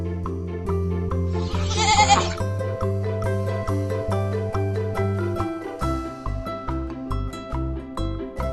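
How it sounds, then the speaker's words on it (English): Goat bleating on a farm, several loud, wavering cries in a row with short pauses between them, close and clear, with a brief higher bleat midway. "Goat."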